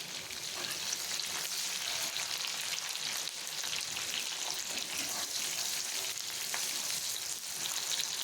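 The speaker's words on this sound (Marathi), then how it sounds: "तेल छान गरम झालेले आहे त्याच्यामध्ये लसूण टाकून घेतले आणि आता बारीक चिरलेली मिरची टाकूयात" Finely chopped green chillies and garlic crackle in hot oil, a dense continuous sizzle like light rain, steady and even throughout, close but fairly soft, no voices.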